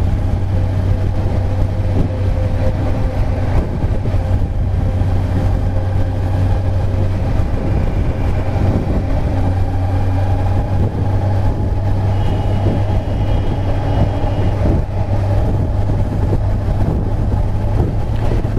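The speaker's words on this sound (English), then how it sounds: "I'm hitting 3000 plus RPM and it's already making hell lot of noise" A Kawasaki Ninja 1000 motorcycle at speed during engine run-in, its engine droning in a steady low hum at around 3000 rpm under heavy wind roar, loud and continuous with no clear revving peaks.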